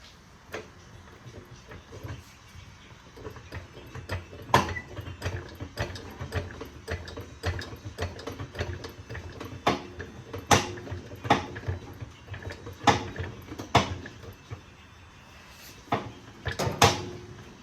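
A floor jack is pumped under a 1969 Firebird during subframe installation, a series of sharp metallic clicks and clacks at an uneven rhythm, close and fairly loud, with no talk.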